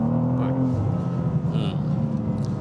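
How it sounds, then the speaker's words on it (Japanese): A 460 hp rear-wheel-drive car accelerates hard away from a toll booth, its engine note rising and climbing in pitch under heavy, constant road and wind noise, heard from inside the cabin. "さあ、料金所からのフル加速です。"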